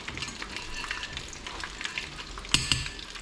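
Butter sizzling as it melts in a pan over a gas hob, a steady close crackle with a couple of sharper spits near the end, no voices.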